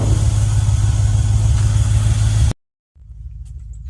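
Chevrolet Envoy SUV engine running, a loud, close, steady rumble that cuts off abruptly into brief silence, then returns as a quieter low hum.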